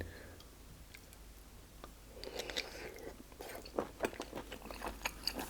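Abalone from a seafood bucket is chewed close to the mic: after a quiet start come soft, sticky chewing clicks and moist mouth noises in an irregular rhythm.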